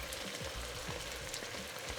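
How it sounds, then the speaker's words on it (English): Tomato paste sizzles in a pan with softened vegetables while beef short ribs are prepared, a steady close crackle and hiss with no talk. "So we're just gonna let that tomato paste cook for a little bit before we put our wine in"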